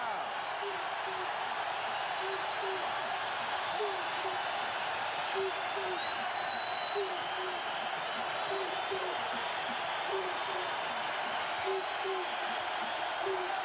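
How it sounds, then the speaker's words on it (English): A packed basketball arena crowd at a 1990 UConn vs. Georgetown men's game roars in a steady, loud wash, with a commentator talking over it throughout. "And listen to this crowd."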